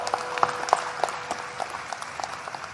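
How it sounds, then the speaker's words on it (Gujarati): An audience at a Gujarati comedy and speaking programme claps in applause, a scattered patter of hand claps that is moderately loud at first and then thins and softens. "એમને એક વખત જોરદાર તાળીઓના નાદ સાથે વધાવો"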